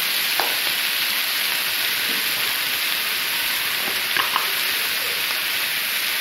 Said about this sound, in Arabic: غادي ندير البصله، زيت الزيتون، خليط بين زيت الزيتون وزيت العاديه